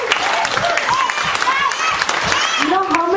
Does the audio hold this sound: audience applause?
yes